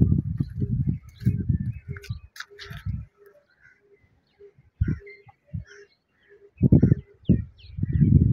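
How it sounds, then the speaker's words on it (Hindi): Low, soft cooing of pigeons comes in short repeated bursts with pauses between, close by, alongside faint chirps. "इंडिया से कबूतर आया जिसे पकड़ने जा रहे हैं"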